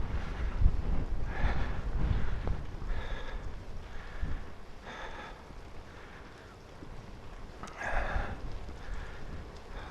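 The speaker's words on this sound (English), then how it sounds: "Wind's getting up a little bit" Wind buffets the microphone during a solo bike ride in freezing conditions at -1°C, a steady low roar with gusts rising and falling, broken by rhythmic breathy puffs from the rider.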